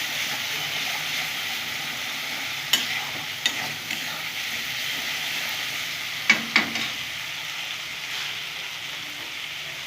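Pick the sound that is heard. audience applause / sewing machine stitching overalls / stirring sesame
stirring sesame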